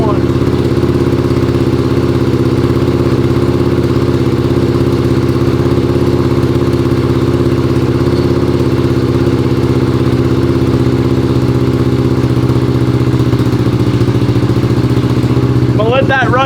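A 600cc crosskart engine idles on its first start, a loud, steady, throbbing drone with mechanical clatter that holds the whole time, changing slightly near the end.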